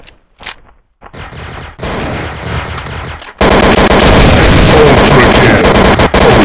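Rapid bursts of AK47 assault rifle fire in a Special Ops video game match set in a library, sparse shots at first, then a loud, sustained fusillade of automatic fire filling the second half.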